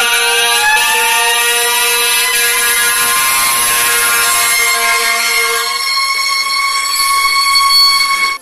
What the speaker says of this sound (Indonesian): di sini ada mobil damkar